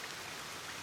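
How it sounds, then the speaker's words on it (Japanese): Rain falls steadily in a dense, even hiss with no distinct drops standing out, faint and continuous throughout. "雨です。"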